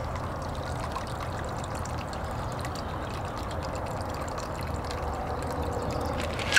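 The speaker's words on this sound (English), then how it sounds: "Pour it in your martini glass" A pink cocktail is poured into a martini glass as a steady, soft liquid stream, quiet and continuous, with a small clink near the end.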